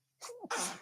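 A single close, loud sneeze with a sharp intake and an explosive burst, heard alone in a quiet room.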